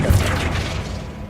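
Flipendo spell cast in the video game Hogwarts Legacy, a deep low boom at the start that trails off into a rushing, fading whoosh.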